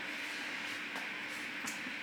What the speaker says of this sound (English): You have to excuse the fan in my oven,